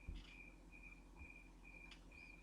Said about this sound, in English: Do you hear the crickets? They're real. It's not a track.